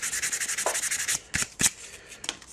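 Hand-sanding a mold line off a plastic 1:100 scale model kit part, a rapid run of close, dry rubbing strokes followed by a few slower, scattered scrapes, with no talk.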